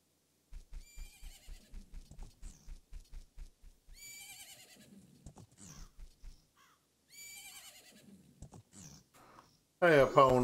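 Epona, the horse in the video game Majora's Mask, whinnies in a loud burst at the end after a run of steady rhythmic hoofbeats and several game voice sounds.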